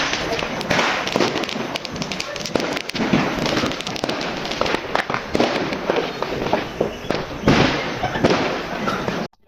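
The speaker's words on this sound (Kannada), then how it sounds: "ಈಗ ಪಟಾಕಿ ಹಾರ್ಸೋದ್ರ ಹೊರಗ ಫುಲ್" Firecrackers bursting in a dense, continuous crackle during an RCB cricket victory celebration in Belagavi, close and loud throughout with rapid overlapping pops and voices mixed in the din.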